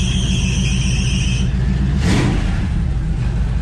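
An old car engine in a new garage, already running loud and close, holds a steady rumbling idle with a brief rise in revs partway through and no talking.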